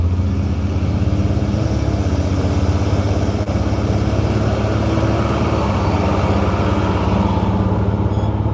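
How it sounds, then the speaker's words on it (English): A car engine runs steadily and loud close by, a dense low rumble with a slight swell that fits revving, heard on the road alongside an old Impala and other traffic, with no talking. "This guy revving at me?"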